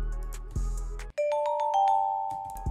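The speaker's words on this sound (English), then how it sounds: "I picked this vibraphone from Mallet Flux and these bells right here." A vibraphone and bell melody built in FL Studio with no effects applied, dry mallet notes ringing with shimmering overtones. A deep bass hit marks the opening, a brief gap follows, and then sustained bell tones carry the line.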